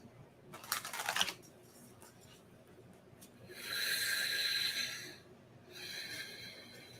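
Deep breathing exercise with loud nasal inhales and exhales at close range, a sharp forceful burst early on followed by two longer, steady airy breaths, with no one talking.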